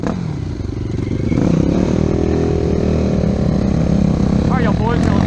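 A Yamaha YZ250F dirt bike engine runs at a landfill, giving a steady, loud mechanical drone with rattling, while voices talk over it.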